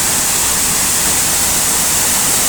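The Sirakayalar waterfall pours with a loud, constant broadband roar of rushing water, steady and unbroken with no voices over it.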